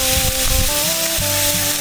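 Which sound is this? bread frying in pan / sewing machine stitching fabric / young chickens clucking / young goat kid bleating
bread frying in pan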